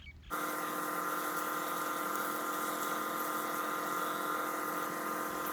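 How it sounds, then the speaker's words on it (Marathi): A 20-litre pesticide sprayer pump kicks on abruptly and keeps up a loud, steady motorized whine and hiss as it sprays a muddy maize field. "दाबलं ना फवाराचं बटन आणि झाला फवारा चालू"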